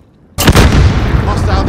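A grenade explodes in a video game, a sudden loud boom after a brief silence that rolls on into a rumbling tail.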